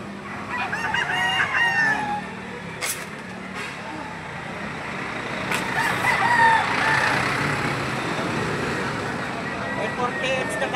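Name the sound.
rooster crowing, pumpkin sweater gamefowl bloodline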